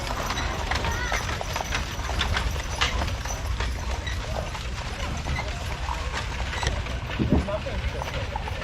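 Horses clip-clopping at Upper Canada Village, hooves striking in a steady rhythm amid constant outdoor noise, with talk mixed in.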